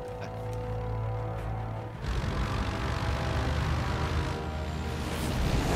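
A propeller plane in the video game Knack drones loudly, building into a broad, steady engine roar that fills the scene.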